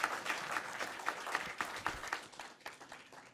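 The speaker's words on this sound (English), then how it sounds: "Can we give the panel a round of applause?" Applause for a panel at a World Press Freedom Day ceremony in Namibia, a short burst of fairly faint clapping from an audience that tapers off after a few seconds.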